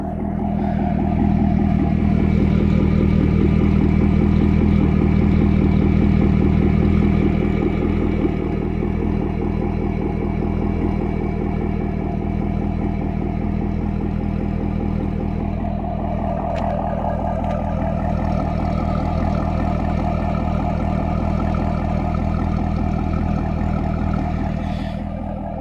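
A 2006 Corvette engine idles and runs with a low, continuous exhaust rumble throughout, loud and close, with no talking.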